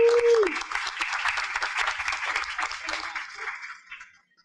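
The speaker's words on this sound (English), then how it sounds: "Round of applause for Chelsea," Audience applause at an evening convening on racial equity, a broad crowd of clapping that swells, holds steady for a few seconds and then fades out, following a brief spoken word at the start.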